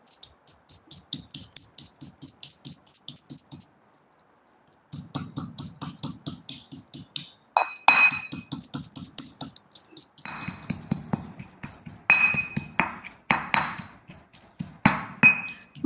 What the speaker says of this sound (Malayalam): മുളകൊക്കെ നന്നായി ഒന്ന് ചതച്ചെടുക്കണം കേട്ടോ.